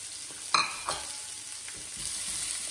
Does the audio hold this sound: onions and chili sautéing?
yes